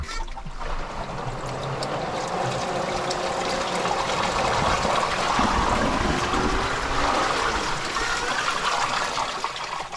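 Water gushes steadily from an open backyard spigot, flushing sand out of swimming pool filter equipment, a continuous loud splashing and trickling rush that holds for the whole stretch with no talk over it.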